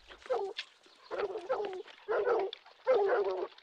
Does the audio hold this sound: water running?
no